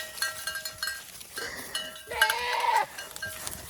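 Goats in heat in a pasture bleat and call: a short bleat, then a louder, drawn-out wavering cry nearby, with a cowbell clinking in the background.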